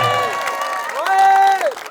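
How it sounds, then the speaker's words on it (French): A crowd at a handisport athletics training camp in Montordat, Lozère, cheers with loud, sustained voiced whoops and shouts, with thin clapping beneath, filling the whole short burst. "On peut faire un gros tonnerre d'applaudissements pour Ludovic et ses étudiantes."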